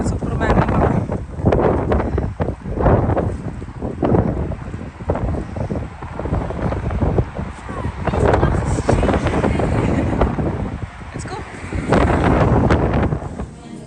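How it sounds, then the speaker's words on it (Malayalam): Strong cold wind blows outdoors and buffets the microphone in loud, rumbling gusts that swell and ease across the span, with voices faintly present at times. "ഇങ്ങനെ കാറ്റ് കേട്ടുമ്പോൾ നല്ല രസമാണല്ലോ"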